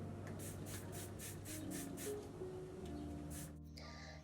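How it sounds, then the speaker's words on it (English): A handheld spray bottle mists water onto hair locs in a steady run of about eight quick, hissing spritzes, close and fairly quiet, with a low background hum. "I'm using my spray bottle and I am saturating my entire lock with water"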